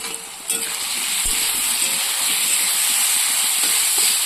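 Onion, tomato and green chilli frying in a pan, a soft continuous hiss and sizzle with a few light knocks, close and steady.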